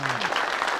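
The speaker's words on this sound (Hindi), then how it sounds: "अरे जोर से ताली बजाओ।" Crowd clapping at a street snake show, dense steady applause throughout the short burst, with a voice briefly at the start.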